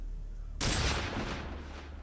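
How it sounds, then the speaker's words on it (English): A single loud gunshot rings out during the Boss fight in Metal Gear Solid Delta, a sharp sudden blast followed by a long, fading echoing tail over a low steady game ambience. "You actually have to pull the trigger here."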